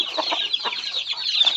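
A native rooster clucks in a rapid, bright series of short calls with no pauses. The calls are close and moderately loud.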